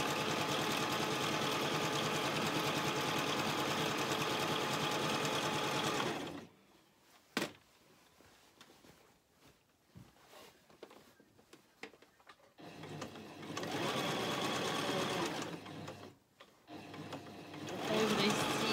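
A sewing machine stitches a petal dress in close, loud, steady runs, stopping midway for a stretch of quieter handling clicks before whirring again in two more bursts.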